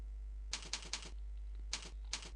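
Keys clatter on a laptop keyboard while typing in Microsoft Word 2013, two short bursts of quick, crisp keystrokes over a low steady hum.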